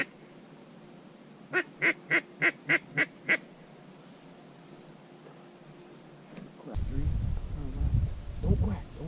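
Ducks, mallards or gadwalls, circling overhead give a quick series of six evenly spaced calls at moderate distance, followed by low voices talking nearby.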